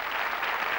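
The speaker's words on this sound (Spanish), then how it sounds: "un aplauso para doña Antonia" A television studio audience on a 1996 Spanish parody show applauds in a dense, even wash of clapping that stays steady through a very short burst.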